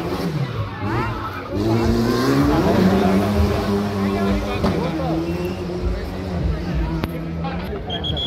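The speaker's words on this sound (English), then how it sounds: "Formula 4 car is approaching." A Formula 4 race car approaches and passes at a JK Tyre motorsport festival in Shillong, its engine note rising and falling loudly over a crowd while an announcer talks.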